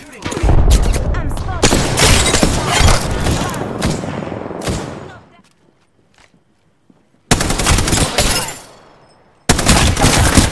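Rapid automatic gunfire in the Apex Legends video game, dense loud bursts lasting several seconds, then a near-silent gap before two more heavy volleys.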